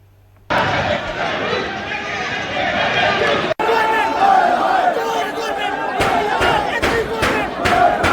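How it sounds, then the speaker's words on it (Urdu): A protest crowd led by an MLA chants slogans against NC policies, a dense, loud and continuous mass of voices with rhythmic shouted bursts near the end. "این سی کی پالیسیوں کے خلاف نعرے بازی کی گئی"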